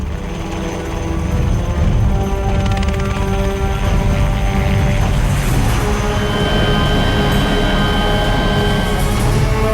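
An army helicopter drones steadily during a search operation for missing soldiers in the snowy Siachen mountains, its rotor and engine noise loud and continuous throughout with no talk.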